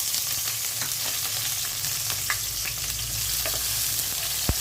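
Onion, garlic and green chili frying in a pan give a steady, close, crackling sizzle throughout, with a few brief sharper pops and clicks near the end and no talking.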